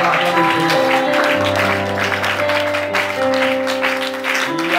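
A church congregation clapping and cheering in praise, a loud sustained roar of applause and voices that fills the room with a low musical drone underneath.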